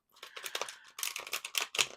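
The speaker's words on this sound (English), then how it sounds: "as I'm shuffling the tarot" Tarot cards are shuffled with a run of crisp riffling and flapping bursts, up close and heard alone.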